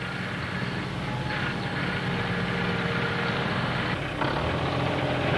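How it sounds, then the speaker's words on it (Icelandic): A new tractor fitted with a front blade rumbles steadily close by, its engine drone loud and continuous with a slight shift in tone near the end. "Þar kom Pétur á nýju dráttarvélinni, þessari með ítutönninni"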